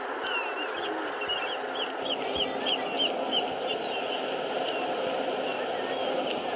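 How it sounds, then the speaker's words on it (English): Bird chirps from the ambient soundscape of the Call of Duty Mobile shooter game, a string of short repeated tweets riding over a steady, dense background wash that runs the whole time. "I hear the sounds of birds, but I just don't see no birds"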